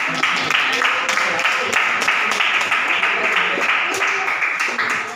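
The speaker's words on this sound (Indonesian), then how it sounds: "Tepuk tangan." Applause from a mathematics classroom audience during a teaching practice session: steady, dense clapping from many hands, fairly loud and close, sustained throughout with some voices mixed in.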